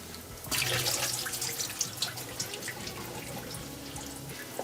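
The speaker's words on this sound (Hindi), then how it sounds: "और मशरूम में से हम पानी फेंक देंगे इसका" Water being poured off a tin of canned mushrooms into a sink, a close, steady splashing stream that begins abruptly and runs on with small drips and clinks, and no talking.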